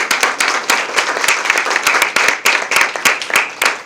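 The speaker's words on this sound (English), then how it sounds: "we really need to give her a round of applause" Audience at the Garden Club of Frankfort's 100th anniversary celebration in a mansion applauding, a dense, loud burst of many hands clapping close by, sustained evenly throughout.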